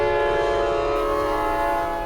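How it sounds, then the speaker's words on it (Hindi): A freight train whistle sounds as one steady, sustained harmonic blast lasting about two seconds, loud and even before cutting off abruptly. "तभी दूर अंधेरे में एक मालगाड़ी की सीटी सुनाई दी।"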